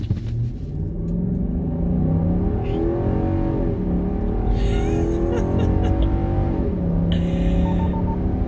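A 2015 Infiniti QX80 SUV accelerates hard, its engine a deep, steady interior rumble that climbs and holds for several seconds with no voices.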